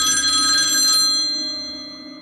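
A telephone bell rings loud and close with a bright, sustained ring that fades away over a couple of seconds before a call to Claire.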